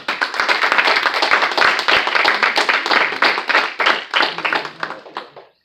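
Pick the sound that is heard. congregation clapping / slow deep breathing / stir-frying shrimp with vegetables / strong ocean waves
congregation clapping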